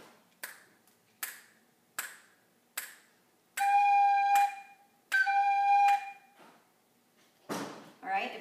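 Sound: tin whistle playing G as half notes

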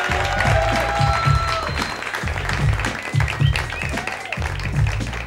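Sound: audience applause for a TV show contestant

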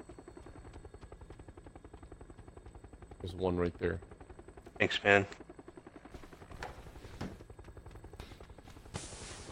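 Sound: helicopter flying overhead in a video game

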